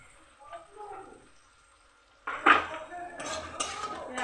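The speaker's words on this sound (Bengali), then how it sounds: "আলুগুলো দিয়ে দিলাম।" Potatoes tipped into a cooking pan in a home kitchen: after a quiet stretch with soft clinks, a sudden sizzling clatter erupts close by, followed by metallic scraping and clinks.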